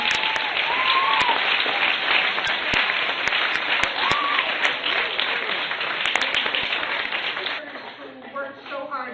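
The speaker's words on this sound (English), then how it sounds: "I'd like you to just sort of publicly clap and thank all the hard work" Audience applause at a live-streamed event: a dense burst of clapping with a few voices rising over it, steady for several seconds before fading out near the end.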